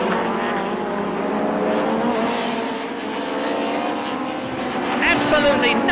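BTCC touring cars battling closely in the 2-litre class, engines howling with rising and falling pitch as the pack passes, loud and close, building to a sharper whine near the end.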